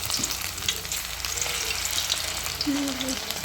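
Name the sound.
bonda made from leftover rice deep frying in oil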